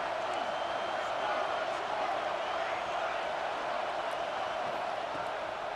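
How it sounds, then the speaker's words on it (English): A stadium crowd in a college football video game gives off a dense, steady roar of cheering that rises to help the defense late in a game, continuous and fairly loud. "this crowd is coming to help the defense"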